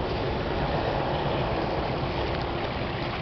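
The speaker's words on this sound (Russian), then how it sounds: "Где-то тут водопад слышны." A small beaver-made waterfall in a boggy forest in Pripyatsky National Park, Belarus, gives off a steady, close, full rushing roar of falling water that holds level throughout, with no voices.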